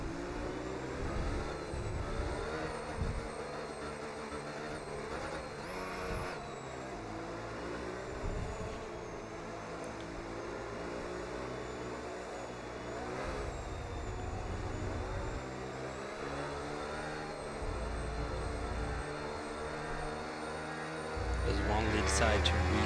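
Racing cars in a video game accelerate hard as the race restarts after a safety car on the Barcelona circuit. A steady, loud engine drone rises toward the end under continuous commentary.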